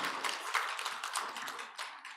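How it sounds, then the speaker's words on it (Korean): A church congregation applauds during a Sunday morning worship service, a steady patter of many hands clapping in a hall, moderately distant, with no speech over it. "박수하겠습니다"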